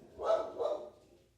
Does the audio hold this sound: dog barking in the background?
yes